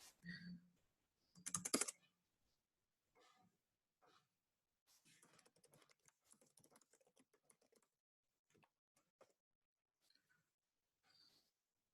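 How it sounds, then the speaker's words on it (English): Typing on a computer keyboard comes in quiet, irregular bursts of light key clicks, close by, with a breathy sound near the start. "just let me type it right away."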